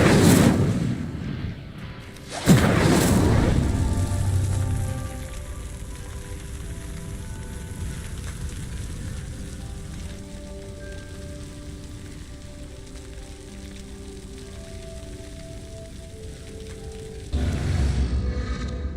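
A fire spell ignites a pyre in Hogwarts Legacy, bursting into a loud whooshing blaze that settles into a steady crackling, sizzling burn, then flares again near the end.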